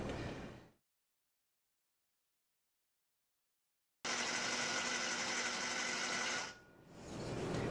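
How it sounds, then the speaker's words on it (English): Food processor pulsing a cup of dried apricots and a cup of walnuts, heard as a short whirring burst, then a gap of silence and a longer, loud, steady grinding run that dips briefly and picks up again. "I have a cup of dried apricots and a cup of walnuts in my food processor. I'm just going to pulse it."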